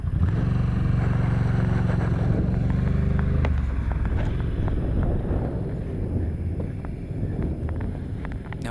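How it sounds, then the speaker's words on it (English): Wind whips through small openings at an evening ATV campsite, a steady loud rush and low rumble buffeting the microphone, easing slightly partway through, with no talk. "the wind was just whipping through there. And you can hear it in the camera when I turn around."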